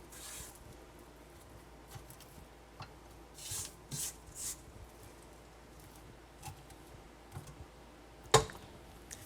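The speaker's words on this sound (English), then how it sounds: "I'll scrape that mixture down a little bit." A utensil scrapes batter mixture down the sides of a mixing bowl in a home kitchen. Faint, intermittent rasping strokes come with soft taps and one sharper knock near the end.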